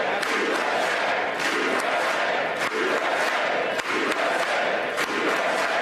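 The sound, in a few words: crowd chanting USA at Trump's Capitol speech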